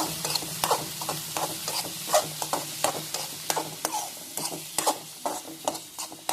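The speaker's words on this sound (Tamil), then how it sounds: "மிளகாத்தூள் போட்டு நல்லா மிக்ஸ் பண்ணிக்கலாம்" Raw mango pieces stirred with chili powder in a pan for a quick pickle, heard as repeated spatula scrapes and soft clinks over a faint sizzle, fairly quiet with no voices.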